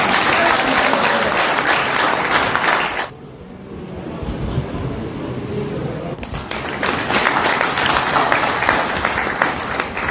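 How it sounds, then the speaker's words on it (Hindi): A crowd at a Sunar community gathering claps steadily in loud, dense applause that dips briefly in the middle, then swells back to full strength. "अब तालियां भी चाहूंगा इस मेरी अंतिम लाइन के साथ"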